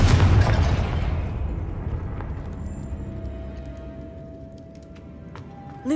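A Confringo blasting curse detonates in Hogwarts Legacy, a loud booming explosion at the start that decays into a long rumbling tail, followed by a faint sustained tone and a small pop at the end.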